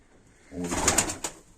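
A young broad-tailed fighting pigeon gives a soft, brief coo, a single low throaty burst heard close but faint against a quiet background.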